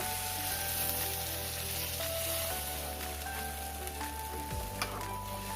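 Tomatoes tipped into a hot pan for an Assamese fish curry hiss and crackle in a steady, close sizzle that runs throughout, with a slight shift partway as they settle.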